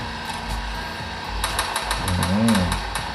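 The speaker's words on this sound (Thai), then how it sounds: "ในเกมนะฮะผมตอนนี้ยิงกันรัวนะฮะ" Dense, rapid bursts of gunfire and mechanical clatter in a mobile shooter game on an Asus Zenfone Max M2, continuous and busy, with a warbling electronic tone rising briefly near the end.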